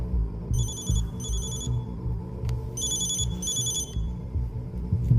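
A telephone rings in two clear bursts of repeated trilling, fairly loud over a low, busy background rumble in a dubbed Hindi film scene, with no talking.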